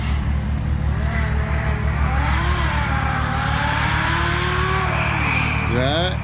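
A stock MK5 Toyota Supra launches and accelerates hard alongside a V10 Audi R8, engines rising in pitch through gears, loud and continuous with a brief chirp near the end, under faint crowd or talk.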